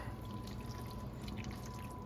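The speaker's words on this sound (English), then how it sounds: "Just gonna add 1 more scoop of that in there, pasta water." Pasta water is poured into a pan of mac and cheese, making a soft, steady trickle and drip of liquid throughout.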